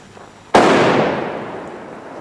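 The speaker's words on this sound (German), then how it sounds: "Das ist so ein Matchcracker von Tomaszek." A Tomaszek Matchcracker firecracker goes off in a single sharp, loud bang after a short quiet lead-in, followed by a long decaying outdoor echo.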